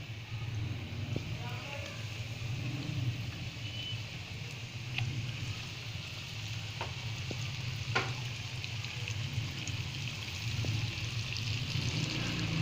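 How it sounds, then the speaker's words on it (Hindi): Coated chicken pieces frying in hot oil in a pan for crispy fried chicken, producing a steady, dense sizzle with occasional pops, close and continuous throughout. "अब हमने एक पैन लेके उसके अंदर ऑयल अच्छी तरह से गरम कर लेना है। उसके अंदर अब हम एक एक करके डालेंगे।"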